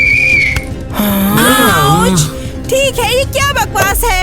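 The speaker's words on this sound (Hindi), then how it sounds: "ये उसकी पसंदीदा सीटी है और वो इससे कभी नजर भी नहीं हटाती है" A teacher's whistle gives one short, steady, shrill blast right at the start, after which several people talk and exclaim in a classroom.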